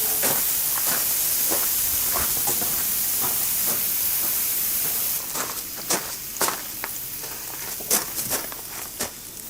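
Water sprays and hisses steadily from leaking fittings on a mobile water softener for an RV, a loud continuous rush that eases halfway through, with scattered close knocks and handling noises.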